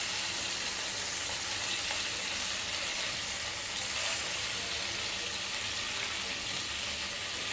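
Shashlik frying in oil in a pan over medium heat, a steady close sizzle and crackle running evenly throughout with no talk.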